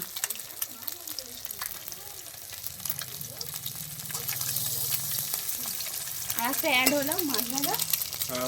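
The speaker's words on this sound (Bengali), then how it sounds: "মিক্স রাইস হচ্ছে সেই কারণে ডিমটাকে এখন ভুজিয়া করে নেওয়া হচ্ছে" Egg bhujia, Bengali-style scrambled egg, sizzles and is stirred in a pan at a rooftop winter family picnic, a soft continuous crackle with occasional scraping, and faint voices in the background.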